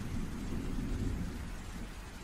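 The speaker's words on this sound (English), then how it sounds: "sheets of heavy rain have cascaded through the dark canopy, thunder rumbling down to earth, rocking the skies." Heavy rain pours down steadily while deep thunder rumbles beneath it in a continuous wash of sound, with no voices.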